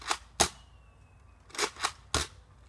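A Nerf Rotofury toy blaster fires darts outdoors, giving five sharp, separate pops spaced unevenly across a few seconds, fairly close and loud against quiet background.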